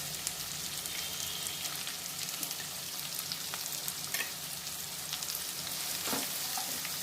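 Onions with a torn dried red chili and green chili pieces fry in a pan for pulla upma, giving a steady close sizzle with crackles and occasional stirring scrapes.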